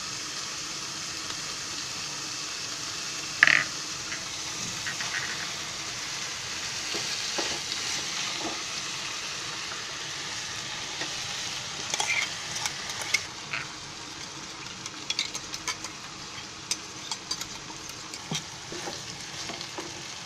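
Ground masala and sprouted moth beans frying in a pan, a steady close sizzle and crackle throughout with occasional scraping stir noises, no voices.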